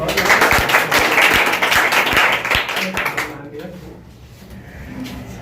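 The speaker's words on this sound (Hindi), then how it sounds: "तालियां बजाओ तो" Clapping at a teacher's day celebration as a topper receives her certificate and medal: a dense run of many hands, with a voice talking over it, fading after about three seconds into quieter room noise.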